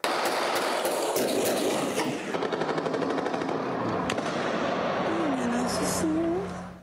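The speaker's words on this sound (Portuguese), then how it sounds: "Mais de 1 hora de tiroteio." Bursts of rapid gunfire crackle through a news report on a long shootout in Minas Gerais with explosions and destroyed bank branches, loud and dense with speech over the shots.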